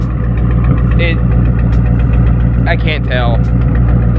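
A boosted Ford Mustang GT engine, fully warmed up, idles loudly and steadily with a deep, rumbling tone, while a person speaks briefly over it.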